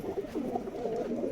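Healthy Giribaz pigeons for sale in Rajshahi give a short stretch of soft, continuous low cooing, muffled and close, with no talk.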